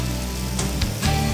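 Stuffed paratha shashlik with vegetables sizzling in oil on a tawa, a steady close hiss with a few brief spitting crackles.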